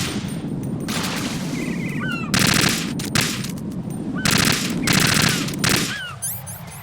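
AK rifle gunfire in the video game Metal Gear Solid 2, loud repeated bursts of automatic fire over a continuous game soundtrack and effects, with short gaps between bursts.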